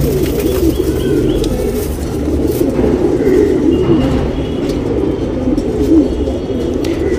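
Tournament pigeons in Bangalore, India coo steadily and loudly up close, a continuous layered cooing from several birds, with occasional wing flaps and faint traffic behind and no talking.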